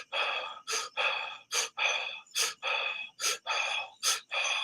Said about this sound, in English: it'll create a cycle of breaths where eventually you're just going to start breathing like that